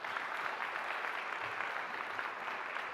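A large audience gives a round of applause for panelists at a CEO conclave session, a dense, steady roar of clapping that holds evenly throughout with no talk over it.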